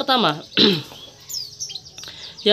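A pet canary gives a few brief, high chirps indoors, faint and thin after louder throaty human vocal sounds at the start.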